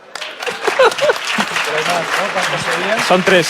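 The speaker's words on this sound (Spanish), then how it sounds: "Un aplauso para ella." An audience at a publishing house's book presentation claps in a moderate burst, with a person's voice talking loudly over the applause for most of its length.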